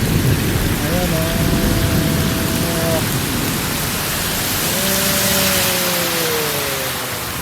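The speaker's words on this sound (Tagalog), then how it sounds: "Grabe guys, ang lakas ng ulan." Heavy rain roars during a thunderstorm, a loud, unbroken wash of downpour with low rumbling beneath, while a voice speaks briefly over it.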